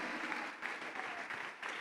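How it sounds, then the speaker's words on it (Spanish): A church congregation claps loudly together during a sermon, a dense burst of applause that rises and falls slightly and carries on without pause throughout. "Dele un fuerte aplauso al Señor, hermano."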